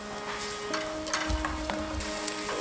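A flour and milk sauce is stirred in a saucepan, with soft scraping and swishing that continues steadily at close range beneath a faint background hum.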